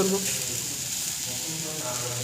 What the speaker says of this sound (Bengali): তো টমেটোগুলো বেশি ভাজবো না এটুকু ভাজাতে যথেষ্ট